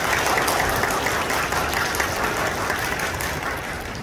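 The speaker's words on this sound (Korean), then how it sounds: "두 사람의 밝은 앞날을 위해 좋은 말씀해 주신 어머님께 다시 한번 큰 박수 부탁드리겠습니다." Wedding guests in a wedding hall applaud heartily, a dense wash of many hands clapping that holds steady and then tapers slightly toward the end.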